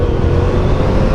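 A 2022 Yamaha R7 motorcycle accelerates hard for a wheelie, its engine giving a loud, close, sustained roar across a brief burst.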